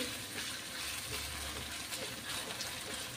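Four large finely chopped onions sautéing in a pan for chole masala, giving a steady, soft, hissing sizzle with faint stirring scrapes.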